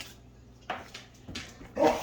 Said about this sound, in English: Now I have dogs which are trying to eat the sulfur.